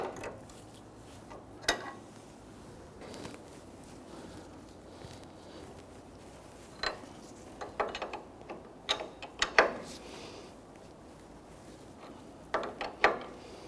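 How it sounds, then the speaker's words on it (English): An 18mm ratcheting gear wrench tightens a sway bar end link nut on a 2005-2021 Nissan Frontier, giving scattered ratchet clicks and metallic ticks in short bursts against a quiet garage background. "if you have a gear wrench, 18mm, that would be perfect for this"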